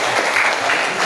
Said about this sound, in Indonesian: Berikan aplaus kepada.